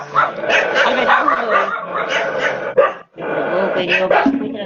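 A dog barks and yips repeatedly in short bursts, mixed in with people talking nearby.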